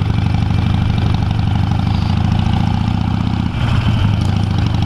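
Harley-Davidson motorcycle engine idling close by, a steady deep low rumble with even pulsing throughout and no talk over it.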